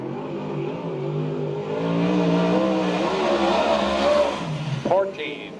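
A USAC/CRA sprint car at Santa Maria roars down the front straight, its engine note rising and falling as it slides out of shape, then fading, with an announcer talking over it.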